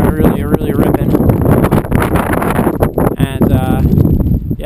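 Strong wind buffeting the microphone in an outdoor mountain setting near Refugio Pehoe, with flags flapping and ripping nearby, a continuous loud roar with fluttering bursts, while a person talks over it.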